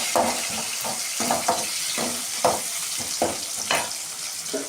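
Tomatoes sauté in a pan of brinjal curry base, a continuous sizzle broken by regular scraping stirs of a spatula, close and clear, with no talking.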